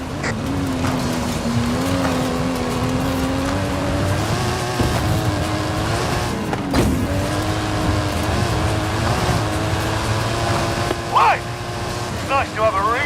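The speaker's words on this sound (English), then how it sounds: "That stunt vehicle is a Mike Steel Special." A video game stunt car with a custom engine and suspension holds a steady engine drone throughout, with voices talking over it and a few brief sharper noises near the end.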